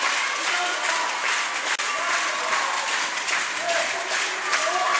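Basketball arena crowd applauding at a 2018 women's world championship game between China and the USA, steady sustained clapping filling the whole stretch, loud and broad with a brief dip midway.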